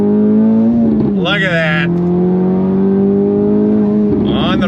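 A DE5 Acura Integra Type S pulls hard at full throttle in second gear, its engine note loud, close and steadily rising, with a brief shift-like dip and a voice speaking over the sustained roar.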